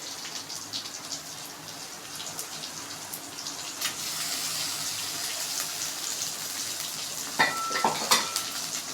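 Ginger garlic paste sautéing with fried onions in a pan for chana masala, a soft steady sizzle with occasional stirring scrapes and a few clinks near the end, close but fairly quiet, no talking.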